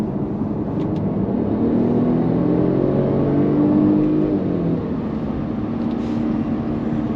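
A Mercedes-Benz E300 petrol coupé, A238 model, pulls hard under full throttle in Sport Plus mode, its engine note rising steadily through a paddle-shifted gear change. The sound is loud, close and continuous, with no talking.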